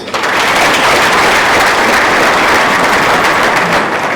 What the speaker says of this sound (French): je demanderai d'applaudir pour toute la salle qui est présente